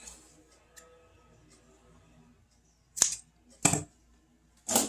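Cord for a camping pillow being cut, three sharp close snips in quick succession after a quiet pause, each a crisp scissor-like crunch.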